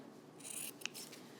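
Scissors snip through bulky fabric being trimmed for a three-layer sewn mask, a short, close, crisp cut with a sharp click near the end, heard alone.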